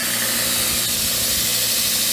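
A belt grinder on its very first run, loose and not bolted down, roaring in a loud steady unbroken whir of motor and abrasive belt close up, with no talking.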